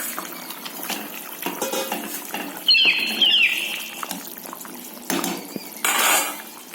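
Fish pieces go into a simmering cauliflower and potato curry broth in a metal pot, bringing soft splashes and a few clinks of a utensil against the pan over a steady bubbling hiss, with no talking.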